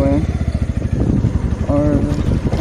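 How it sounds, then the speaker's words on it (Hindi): A motorcycle engine hums steadily on a ride out from a village at sunset on the way to a highway near Kesariya, Motihari, with someone talking over the ride. "बाइक लेकर अभी फिलहाल अपने गाँव से निकल गया हूँ"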